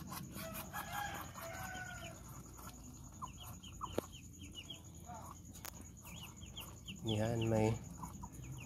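A rooster crows and hens cluck near a brood of newborn ducklings on a farm, several calls scattered across the clip with one louder, close crow near the end, while a voice talks quietly in Filipino.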